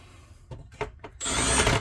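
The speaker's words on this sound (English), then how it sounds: "Let me first turn the torque on my drill down to nothing so we don't tear up screws" A power drill set to minimum torque whirs in short bursts while removing screws from an International instrument cluster, then runs steadily and louder at close range, with faint tool handling between.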